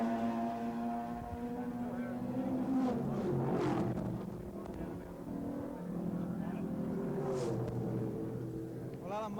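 A Mazda race car drives at Oran Park during a 1982 touring car race, its engine rising and falling as it passes, under a commentator's ongoing talk.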